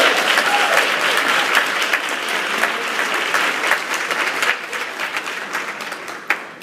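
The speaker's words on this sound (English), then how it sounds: "So can y'all clap it up for my mom?" An audience claps for a speaker's mother at a talk on fatherhood, with steady, dense applause throughout, a few sharper claps standing out and faint voices mixed in.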